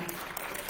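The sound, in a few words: audience applause after a conference talk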